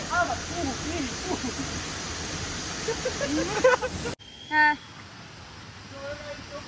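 A waterfall roars as a steady, close rushing wash for about four seconds with voices talking over it, then it cuts abruptly to a much quieter outdoor scene with a brief tone.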